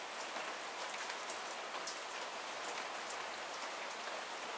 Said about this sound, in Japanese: 本日は雨で